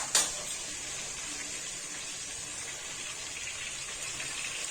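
Onions frying in a pan for veg handi biryani, a soft, steady sizzle throughout, with one sharp clatter at the very start.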